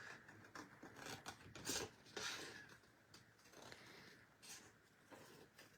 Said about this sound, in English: grab my scissors and I'm just gonna fussy cut around these flowers